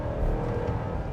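A 2024 Chevrolet Traverse Z71's four-cylinder turbo engine pulls hard at full throttle, a steady loud drone of cabin-heard acceleration through a smooth eight-speed automatic, with no speech over it.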